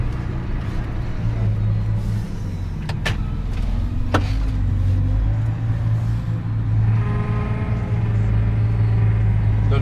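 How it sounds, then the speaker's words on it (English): A Valtra tractor tips a trailer while its hydraulics run, a steady low drone and whine that holds close and loud throughout, with a couple of brief sharp clicks near the middle. "the Valtra seems to have a bit of, I don't know if it's hydraulic noise when it's tipping a trailer"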